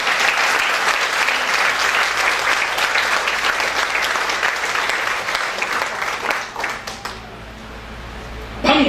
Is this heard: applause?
yes